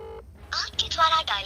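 Phone dialing and call tones on a mobile, with electronic beeps and short tonal bursts, followed by someone speaking Hindi close by over the line sounds.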